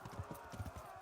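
Rhythmic clip-clop of a horse's hooves at a steady trot in the medieval game Kingdom Come: Deliverance, close and moderately loud, with low thuds repeating under a faint background bed.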